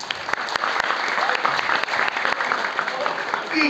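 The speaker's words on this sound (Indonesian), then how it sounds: "Tepuk tangan untuk Stefan." A short burst of audience clapping at a calonarang performance at Pura Batu Pageh in Ungasan, dense and fairly close, lasting under four seconds.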